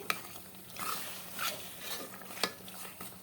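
Fish pieces in hot oil in a pan give a soft sizzle, with a few stirring scrapes and light clinks of a utensil against the pot at moderate volume.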